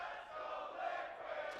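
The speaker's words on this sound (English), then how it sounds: "Crowd clearly rallying behind them." A large crowd roars and chants at a CS:GO esports match on Mirage between mousesports and Liquid, a sustained distant-sounding swell of cheering with no clear voice above it.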